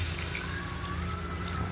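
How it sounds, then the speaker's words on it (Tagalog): Water poured from a bucket into a cooking pot of pork tinola gives a soft, continuous trickle and splash, fairly faint, with a low steady hum underneath and no talk. "lagyan natin ng isang timbang tubig"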